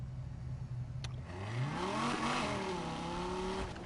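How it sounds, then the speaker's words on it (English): A V10 car engine in the video game Need for Speed Heat revs up and down in one smooth rising and falling sweep, heard alone and fairly faint. "Yeah, it sounds like a V10."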